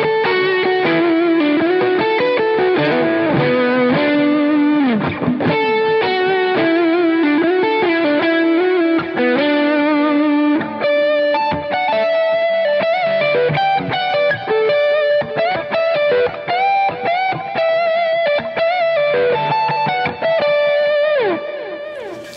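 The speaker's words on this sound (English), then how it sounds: "I'm gonna go with my middle pickup and do some more like lead tones" A Gretsch electric guitar on its middle pickup plays a lead line with sustained, singing notes and slight overdrive, steady and loud throughout, no voices.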